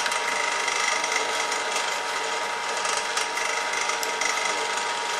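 A tapping chuck drives a tap cutting a thread, giving a continuous dense metallic grinding and rasping that stays steady and close throughout, with no talking.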